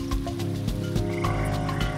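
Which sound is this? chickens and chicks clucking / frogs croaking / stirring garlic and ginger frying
frogs croaking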